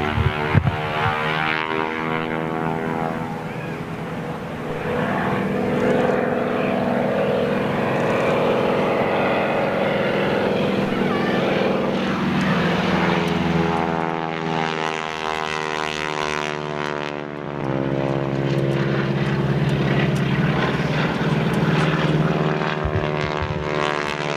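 Propeller aircraft engine drone at an air show, loud and steady with a strongly harmonic buzz that shifts pitch as the plane manoeuvres overhead, continuous throughout with no talk.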